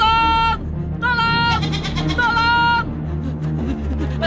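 A goat bleats loudly several times in a dramatic Indonesian TV scene, wavering cries rising and falling in quick succession over a sustained musical background.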